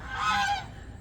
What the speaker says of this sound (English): And there's the geese. Geese are going to crank it up.